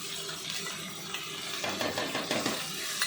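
Coriander, cumin, chilli and ginger paste fries and is stirred in a pan for a rui fish curry with potato and cauliflower, giving a steady close hiss and sizzle with scraping stirs that grow busier toward the end.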